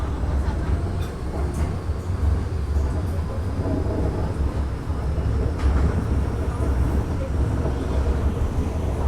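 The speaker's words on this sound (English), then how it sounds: "Is this a fast train or a slow train?" Hong Kong metro train running between stations on a trip from Po Lam toward Causeway Bay, a loud, steady low rumble with rattling and clatter from inside the carriage.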